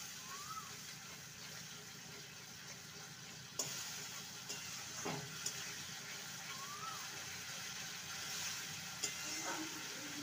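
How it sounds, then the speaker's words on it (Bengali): Cashew paste and spices sauté in a pan for a vegetarian potato and parwal curry, giving a steady close sizzle with a few sharp clinks and scrapes of a spatula stirring. "সমস্ত কিছু ভালো করে আবারও কষিয়ে নেব।"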